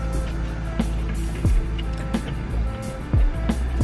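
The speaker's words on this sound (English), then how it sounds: "Y'all gonna hear noise because I got the windows down. And traffic is going by." Traffic goes by outside a parked car with its windows down, a steady close rumble of engines with a few louder passing vehicles and thumps over a constant hum.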